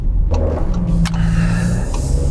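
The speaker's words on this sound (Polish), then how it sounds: "Teraz gorsza droga, troszeczkę zaczyna być słychać zawieszenie tego samochodu" Inside a Dacia Jogger on a bumpy, potholed road, a steady low rumble of tyres and cabin drone runs throughout, broken by several sharp knocks and thumps from the suspension over holes, with no speech.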